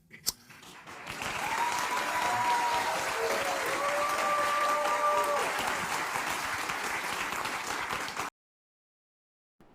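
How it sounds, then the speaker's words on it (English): A studio audience breaks into steady applause, swelling over a couple of seconds and holding as a dense wash of clapping before cutting off abruptly. "the guys who are actually clapping"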